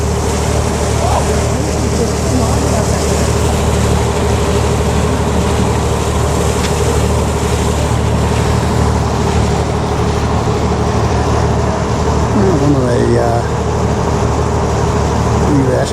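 Steady engine drone of rescue boats passing on the water during training, a continuous rumbling motor noise with a faint whine rising briefly near the end.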